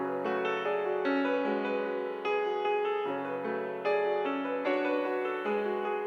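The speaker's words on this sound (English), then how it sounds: "The original piano is the Noir Pure piano from Contact." A sustained piano melody from the Noir Pure piano in Kontakt plays with rich harmonic chords, steady and loud throughout, with no voices.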